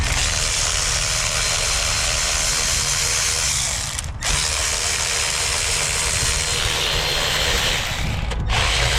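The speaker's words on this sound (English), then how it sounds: "I'm using my Milwaukee cordless ratchet" Milwaukee cordless ratchet backing out 10mm valve cover bolts on a 1999 Honda Accord, a steady close motor whir with short gaps where the tool stops and restarts.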